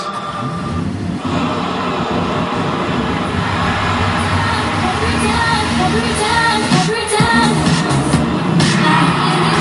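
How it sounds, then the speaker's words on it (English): A wrestling event crowd roars loudly for a young female wrestler, a dense, continuous wash of cheering and noise filling the whole arena without letup. "everybody is cheering loud for this young woman"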